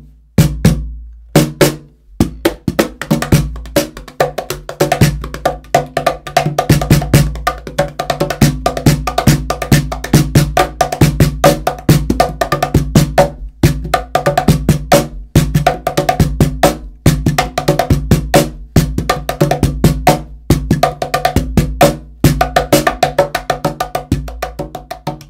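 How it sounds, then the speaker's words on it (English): A medium-size dog double oak cajon with a snare is played in a fast, steady groove of sharp slaps and deep bass thumps with a raspy buzz, loud and close throughout with no voices. "That's the sound of the medium-sized dog snare."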